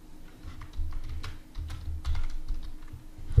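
Computer keyboard keys clatter in quick, uneven bursts while text is typed into a browser tab, close and moderately loud with short pauses between runs of keystrokes.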